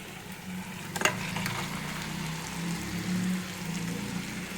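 Chicken pieces frying in hot oil, a steady close sizzle and crackle with a brief clatter of stirring near the start, continuous and moderately loud with no talking.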